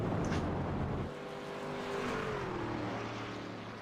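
Race cars in a racing video game rush around an asphalt track, a dense continuous engine roar with one car's pitch sliding down as it passes, steady and fairly loud throughout.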